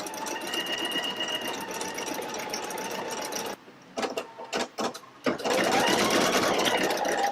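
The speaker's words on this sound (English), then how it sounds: "I'm going to go ahead and let this embroider out," Pfaff Creative Icon 2 sewing machine embroidering: a steady, fast mechanical whir and stitch rhythm that breaks into a few stuttering starts and stops midway before running continuously again, close and clear.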